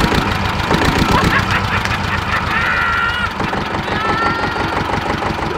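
A blind-bought two-cylinder tractor engine with engine damage runs steadily nearby, with a loud, uneven chugging and knocking beat that continues throughout.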